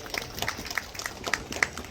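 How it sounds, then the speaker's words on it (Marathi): A crowd applauds new councillors at a swearing-in ceremony, a brief burst of dense, steady clapping heard at moderate distance. "त्यांच्यासाठी जोरदार टाळ्या वाजू द्या"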